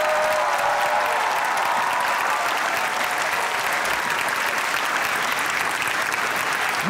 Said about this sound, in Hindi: आपकी भरपूर तालियों में सना अस्करी और मिनाज अली अस्करी।